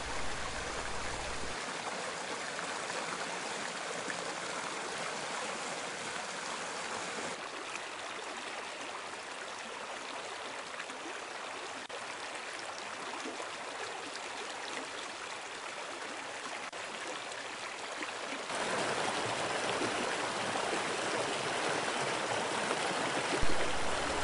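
A steep-gradient mountain creek rushes over opposing rock deflectors, a dense, continuous broadband roar of flowing water with no pauses or voices, swelling slightly louder near the end.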